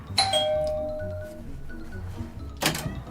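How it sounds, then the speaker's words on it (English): Two doorbell chimes in a British home ring out, one at the start with a lingering tone and a second sharp ring near the end, over faint background noise. "My doorbell sounds the same."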